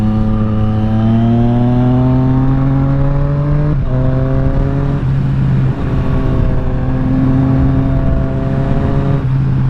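A 2020 Triumph Street Triple RS sport motorcycle roars loudly while being ridden, its engine pitch climbing steadily through gears with brief dips at each shift, under constant rushing wind.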